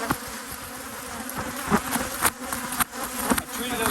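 Honey bees at an apiary hum in a dense, continuous close buzz, with individual bees flaring louder as they pass near, recently treated for varroa mites with oxalic acid.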